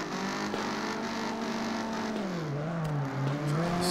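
A race car engine in CarX Drift Racing 2 revs steadily, its droning pitch holding, dipping and climbing again as it shifts toward third gear, loud and continuous with tire noise.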